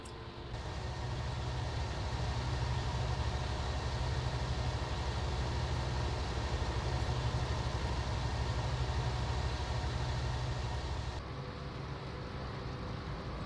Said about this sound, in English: I can hear our carting tractor catching up to us